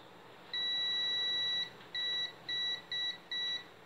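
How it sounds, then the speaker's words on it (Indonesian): A multimeter's continuity buzzer sounds while probing a shorted diode in a lightning-damaged CRT television, giving one long steady beep followed by four shorter beeps in quick succession against a quiet background. "kita arahkan dulu ke buzzer ya di sini ya, supaya terlihat konslet apa tidak."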